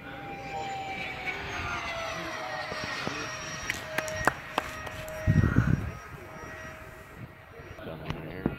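An F-22 fighter jet coming in to land, its engine roar a steady loud wash with a brief louder surge midway, while people talk nearby.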